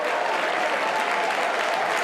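A football crowd at AFC Wimbledon versus Swindon Town applauds a sent-off player, producing a steady, dense wash of clapping from many hands that holds at an even level.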